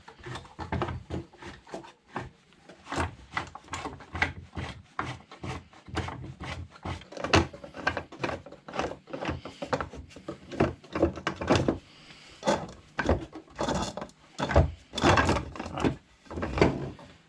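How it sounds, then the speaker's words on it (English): Hardware being unscrewed from the jaw of a wooden Moxon vise: continuous close rasping and squeaking of screws turning in wood, in rapid uneven bursts with short pauses, with no talk. "We'll just unscrew each side of the vise so that you can have a look at the jaw on its own"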